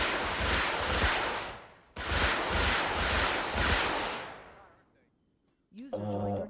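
Artillery fire and explosions in the video game Arma 3: two long roaring barrages of blasts, each dying away, then a brief silence before another sharp sound at the end.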